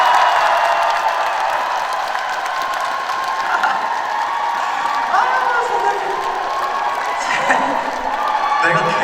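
Outdoor festival fans give sustained, loud applause and cheering for a trot singer, a dense wash of clapping and whoops filling the whole stretch with a speaking voice faintly beneath.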